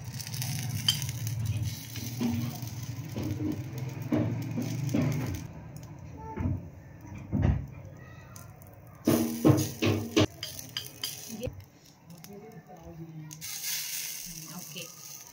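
Appe batter sizzling in a pan over a wood-fired clay stove, a soft continuous frying hiss broken by clinks and scraping of utensils, with a brief louder burst of crackle near the end.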